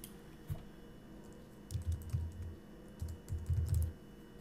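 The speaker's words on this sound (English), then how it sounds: "Type in the nickname for your course in this text field." Keys clatter on a computer keyboard as a course nickname is typed into a text field, several short bursts of quick close taps with pauses between, no voice.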